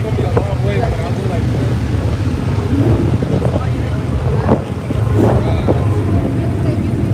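Steady loud engine rumble fills the scene, car engines revving and droning nearby at a Cars and Coffee meet at Circuit of the Americas, with wind buffeting the microphone throughout.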